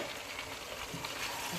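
A tomato and green chili paste frying with mutton makes a faint, continuous sizzle with light crackle and soft stirring scrapes throughout the brief moment.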